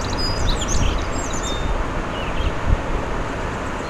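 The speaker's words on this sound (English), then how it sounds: "Bird song in the river," Small birds chirp and tweet faintly over a constant rushing wash of flowing water and wind outdoors.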